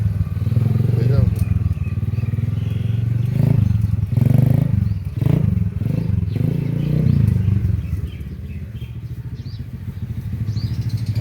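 A 125cc quad bike ATV engine idles and putters with a steady low rumble and clattery texture, close by, while people talk over it; the engine noise eases slightly near the end.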